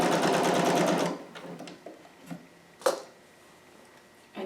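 A sewing machine stitches a 5/8 inch seam on a McCall's 7402 harem jumpsuit, a dense rapid burst for about a second, near and loud, followed by a few faint clicks and a brief restart.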